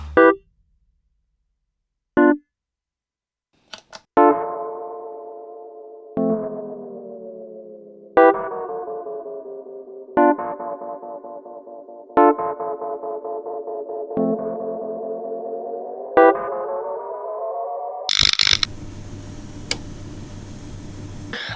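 Repeated plucked tones through a Strymon El Capistan tape echo pedal, each followed by warbling, wavering echo tails that fade out, played about every two seconds, ending in a burst of noisy distortion.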